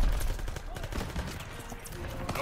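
Gunfire rattles in a World War II battle in Call of Duty WWII, rapid sharp shots and bursts over a few seconds mixed with speech.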